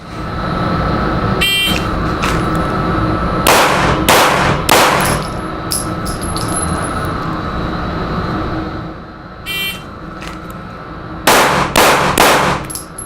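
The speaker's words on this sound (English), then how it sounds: "we'll do a magazine of 9, 3 shots, reset, assess" Handgun shots ring out at an outdoor range during a tactical flashlight drill, sharp cracks in separate bursts of two or three over steady background noise and wind.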